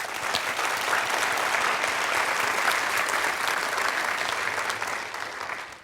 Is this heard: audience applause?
yes